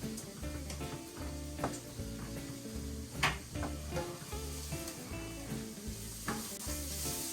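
Vegetables for po' boy filling cooking down in a pan, with a steady sizzle and repeated scrapes and clinks of stirring throughout, moderately close and without talk.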